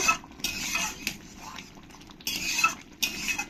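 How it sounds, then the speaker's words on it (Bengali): Mushroom masala being stirred in a pan, with soft scraping and tapping of a utensil in bursts against a low background rumble, fairly faint and close. "গরম মশলার গুঁড়োটা দিয়েও ভালো করে একসঙ্গে মিশিয়ে নেব"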